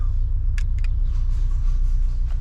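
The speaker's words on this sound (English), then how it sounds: "I'm in the car and it's a very nice rumbly sound." A steady, low engine rumble from a Ford Focus RS fills the clip from inside the car, with a couple of brief clicks near the start.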